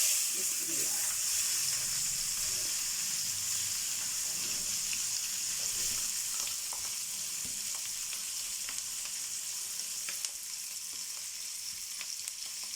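Carrots, onions and capsicum fry for chicken tikka fried rice, a dense, steady sizzling hiss that runs the whole time, close and moderately loud, with occasional faint clicks of stirring and no talking.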